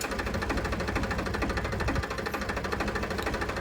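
A tractor engine idles steadily after stopping beside a well being deepened by crane, giving a continuous rough, knocking mechanical rumble at close range with no talk.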